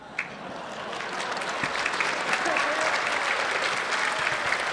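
A convention audience claps steadily at a pony fan event, the applause building quickly and holding as a dense, sustained wash of many hands in a large hall.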